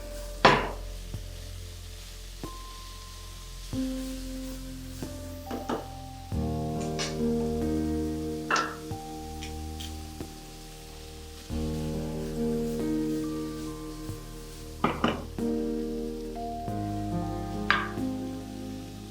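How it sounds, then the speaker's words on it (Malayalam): Small cut chicken pieces go into a cooking pan and are stirred for a chicken perattu curry, with clanks and scrapes of a utensil against the metal pan over a steady sizzle. "ചിക്കൻ ചെറിയ പീസായിട്ട് കട്ട് ചെയ്ത് ഇതിലേക്ക് ചേർത്ത് കൊടുക്കുകയാണ്. ജസ്റ്റ് ഒന്ന് മിക്സ് ചെയ്ത് കൊടുക്കുക"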